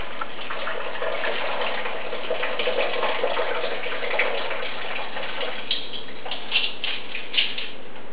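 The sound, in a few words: washing lentils in water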